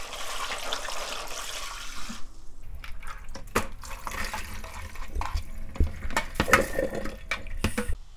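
Running tap water splashes into a kitchen sink as rice cakes from a mill are rinsed, a steady gush that breaks into sharp, uneven splashes and clatters near the microphone.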